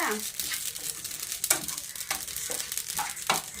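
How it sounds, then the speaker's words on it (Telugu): Sesame seeds dry-roasting over a medium flame in a pan, stirred with repeated scraping strokes and a soft crackle, fairly close and moderately quiet. "నువ్వులు వేపుకుంటున్నానండి."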